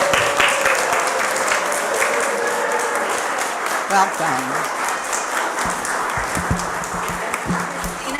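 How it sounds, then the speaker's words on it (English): A Unitarian Universalist congregation at a Sunday service applauds in a long, even roll of many hands clapping, while a voice briefly speaks a greeting over it partway through. "And now you can applaud."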